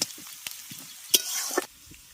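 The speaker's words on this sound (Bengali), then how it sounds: "পেঁয়াজটাকে হালকা করে ভাজবো বেশি কিন্তু ভাজবো না" Onions frying lightly in a pan give a quiet, brief sizzle broken by a few soft stirring scrapes and clicks, with no voices.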